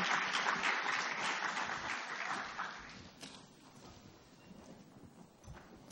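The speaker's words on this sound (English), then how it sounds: "Why don't we give them an applause?" Applause from an audience rattles loudly at first, then thins out and fades to scattered claps and room noise.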